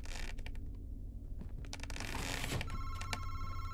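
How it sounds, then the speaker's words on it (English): Telephone ringing in a horror-style video game, a repeated electronic bell tone cutting through a dense, noisy game soundscape, clearest in steady pulses over the last second. "Oh, the phone's ringing."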